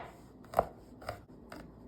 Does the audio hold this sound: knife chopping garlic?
yes